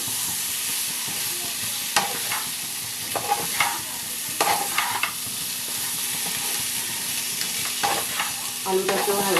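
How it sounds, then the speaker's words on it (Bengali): Potatoes tossed with spices in a pan for a paneer dish, scraped and stirred steadily under a continuous close sizzle, with irregular scrapes and clinks of the spoon against the pan. "এবার আলুটাকে মশলাটা দিয়ে ভালো করে কষিয়ে নেবো"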